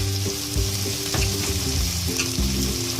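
Tomatoes going into a pan of sautéed onions, a bright continuous sizzle with stirring clatter, while a low droning hum and background music tones run underneath, and no one speaks.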